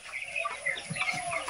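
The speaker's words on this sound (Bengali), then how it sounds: "এই যে আমার ক্যামেরার সামনে যে দুইটা বড় সড়ো মুরগি দেখতেছেন" Two large local desi hens on a small farm give soft, close clucks, a few short calls over faint background noise.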